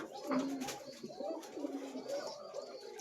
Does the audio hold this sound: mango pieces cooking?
no